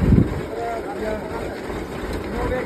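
A tractor engine reversing outdoors, a steady low rumble with heavy wind buffeting on the microphone and voices talking over it.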